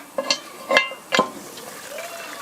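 Lamb stew bubbles in a Dutch oven, with three distinct pops and plops in quick succession followed by a soft, steady simmer close by.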